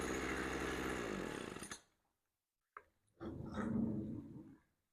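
A Tanaka leaf blower's small two-stroke engine, freshly fitted with a replacement carburetor, runs steadily and loud up close before cutting out, then restarts briefly and holds a rough, buzzing idle.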